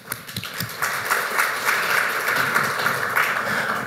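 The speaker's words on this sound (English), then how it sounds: "So let's give Anna and Stas a round of applause." An audience at a venture capital talk applauds, a dense wash of clapping that builds after a few scattered claps and holds steady and fairly loud.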